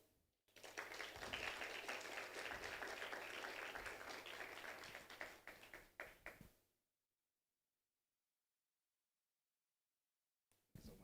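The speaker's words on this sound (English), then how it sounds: "A round of applause for Wakili as she sits down." Audience at a 2024 career fair applauding a speaker as she sits down, a loud sustained round of clapping lasting about six seconds that tapers off into silence, then a brief burst of sound at the very end.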